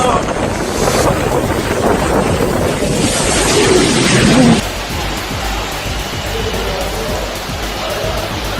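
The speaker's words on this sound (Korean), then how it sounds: "역대급 강풍과 물폭탄을 동반한 10월 태풍 차바가 5일 제주도와 남해안, 동해안을 강타해" Strong typhoon wind from Typhoon Chaba lashes Korea's Jeju and south coast, producing a loud, continuous roaring rush with buffeting that eases slightly partway through.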